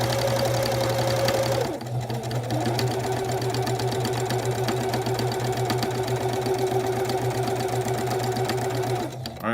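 A sewing machine stitches a pinwheel quilt toward a corner, its motor running in a close, continuous mechanical whir with a brief pause early on and an abrupt stop at the end.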